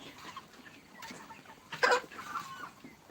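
Chickens clucking nearby, soft scattered clucks with one louder squawk in the middle, against a quiet background.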